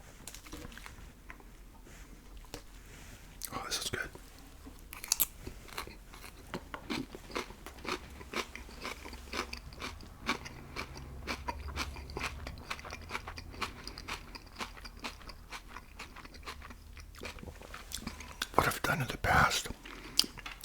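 Someone eats a Subway rice bowl topped with crumbled Doritos close to the mic, with repeated sharp crunches and chewing throughout and soft whispered talk in between.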